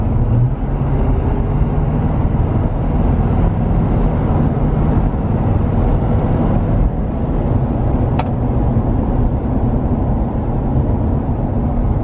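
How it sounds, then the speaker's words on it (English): A 2021 Ford 6.7 Powerstroke diesel fitted with an S&B air intake sends a loud, dense, continuous roar with little change in level, heavy in the low end and steady from start to finish. "gonna give her some throttle"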